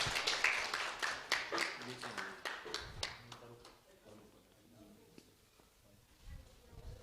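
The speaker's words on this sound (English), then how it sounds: "Give him a big round of applause." An audience at a college youth parliament event claps in scattered, fairly distant applause that thins out after a few seconds, with faint murmuring voices underneath.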